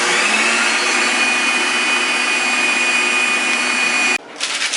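An electric mixer beats pumpkin roll batter with baking powder and salt, giving a loud, steady motor whir with a high whine that stops abruptly near the end, followed by a few soft clatters.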